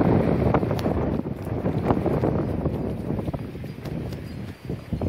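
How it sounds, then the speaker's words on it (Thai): Strong wind buffets the microphone beside the fast-flowing Mekong River, a continuous loud broadband rumble with gusty swells and no voices. "ลมก็แรงนะครับ"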